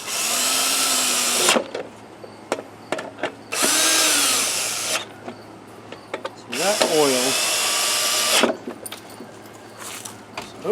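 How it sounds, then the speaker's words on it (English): Cordless power drill driving screws back into a Poulan Pro push mower, three loud whirring bursts of a few seconds each with rising-and-falling pitch, separated by quieter gaps with light clinks and handling noise. "So we'll shoot the 3 screws back in."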